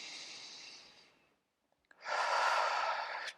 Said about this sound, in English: So we'll take one more deep breath in and out.